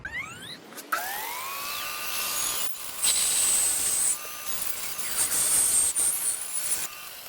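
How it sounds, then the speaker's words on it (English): A bandsaw roughs out a wooden bow blank, giving a steady high-pitched whine with rasping cut noise that swells and dips as the wood is fed through, close and continuous with no talking. "now I'm just going to use a bandsaw to rough it out"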